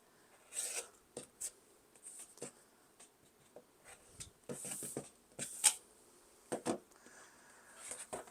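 Rotary cutter strokes slicing through quilting cotton for a sawtooth star block, a series of short, dry rasping cuts spaced irregularly with quiet pauses and small handling sounds, close and fairly faint.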